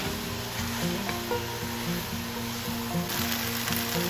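Yakisoba noodles with calamari and sauce sizzle steadily in a hot pan, a continuous broad hiss with faint stirring, moderately loud and close, without speech.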